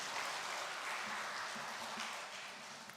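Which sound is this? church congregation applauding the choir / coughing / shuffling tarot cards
church congregation applauding the choir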